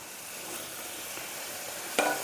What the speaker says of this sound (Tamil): நறுக்கி வச்ச சின்ன வெங்காயத்தை போட்டுக்கிறேன்.